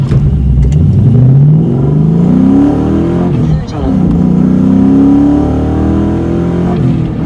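A car accelerates hard on a quarter-mile run that ends at 15.0 seconds and 92 mph, its engine note climbing loud and close through one gear, dipping briefly at a shift, then rising again, with some talk over the engine.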